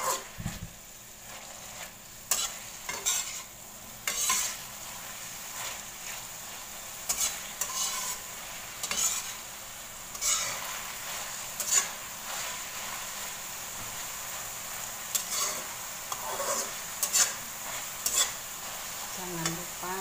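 Broccoli and shimeji mushrooms sizzle steadily in a frying pan while a utensil stirs them with intermittent scraping and clinking, quiet and close, with no talk.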